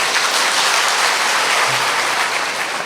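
Audience at a spiritual talk clapping in unison, a dense, even roar of many hands that stays loud and steady throughout.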